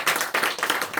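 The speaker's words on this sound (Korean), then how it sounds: "감사 박수 한번" Clapping from a church congregation during a Sunday morning worship service, a steady burst of dense, close applause filling the whole moment with no talking.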